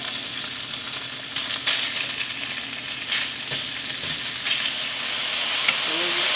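Beef sizzles and fries steadily in a pan for a stir fry, a loud, continuous crackle with occasional scraping stirs and no talking.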